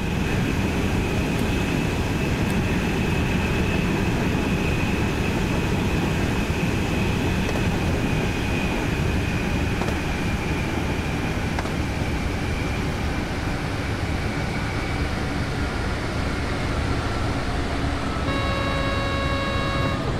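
An ÖBB 4024 Talent electric multiple unit in Train Sim World 4 rumbles steadily with a broad rail and motor noise and a faint high whine while braking, ending in a cluster of short tonal beeps, loud and close, with no talk.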